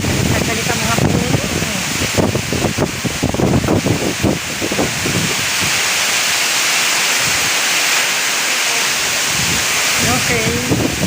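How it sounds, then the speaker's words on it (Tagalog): Strong typhoon wind roars and gusts against the microphone in a constant, heavy rush, with a voice talking through much of the noise. "Pinakita ko lang po sa inyo gaano kalakas ang bagyong Egay."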